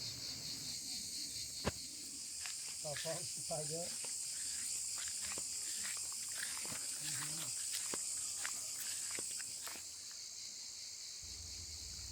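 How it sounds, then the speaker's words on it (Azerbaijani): A steady high-pitched buzz of crickets chirping in a forest near Ismayilli, Azerbaijan fills the background throughout, with a person talking quietly over it and occasional light ticks. "Ancaq cırcıramaların səsi gəlir."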